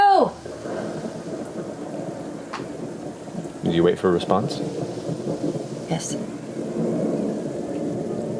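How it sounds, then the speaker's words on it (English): Deep rolling thunder rumbles through a stormy backdrop in a fantasy tabletop roleplaying game, swelling in the middle and holding steady under people talking. "just the sound of thunder and lightning rolling"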